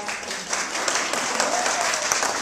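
Applause at the opening of an exhibition in a city museum during a festival, a steady wash of many hands clapping that holds evenly for a couple of seconds with a few sharper claps standing out.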